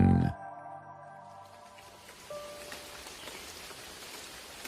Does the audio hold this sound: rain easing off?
yes